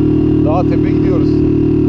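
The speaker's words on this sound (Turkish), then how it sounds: "Yavaş yavaş motor kendine geliyor." A car engine labours steadily up a mountain slope in third gear, a loud, constant low drone heard from inside the vehicle while someone talks over it.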